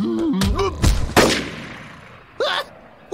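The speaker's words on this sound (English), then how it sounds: "A gunshot!" Cartoon gunshots in a Vick and the Bear animated episode, a couple of sharp bangs mixed with brief cartoon character vocalizations, loud and close with quieter gaps between.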